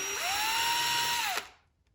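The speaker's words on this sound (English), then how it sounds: "Get the drill that we use." A power drill whirs up to speed, holds a steady high whine for about a second, then winds down and stops. No talking.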